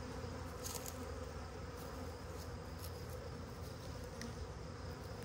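Honey bees hum in a dense, continuous buzz around a new hive, many wings droning together close by, soft and steady with no voices.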